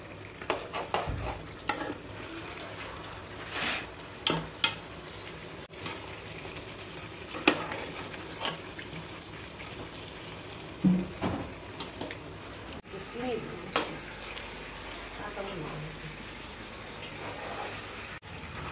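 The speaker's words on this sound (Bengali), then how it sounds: "ভাজা মুরগিটা মশলার মাঝে তুলে দেওয়া হলো। এখন রোস্টটা কষিয়ে রান্না করা হয়ে যাবে।" Fried chicken pieces sizzle and hiss in a pan of spiced masala for a chicken roast, with repeated scrapes and clatters from stirring at close range.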